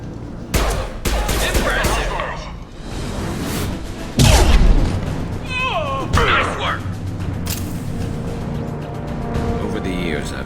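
Gunfire erupts in the Mass Effect 2 video game as Blue Suns mercenaries shoot, with dense bursts of automatic fire, booming impacts and sharp single shots. Voices break in here and there amid the chaotic combat.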